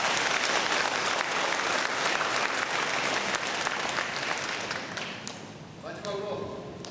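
Sustained applause from an audience at a Saemaul Undong community awards ceremony fills the hall, loud and dense, then thins and tapers off near the end as a voice begins to speak.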